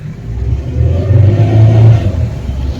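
A motorboat engine drones loud and steady on a ride through a mangrove forest in Sri Lanka, its low rumble swelling slightly as the boat pushes on, with no voices over it.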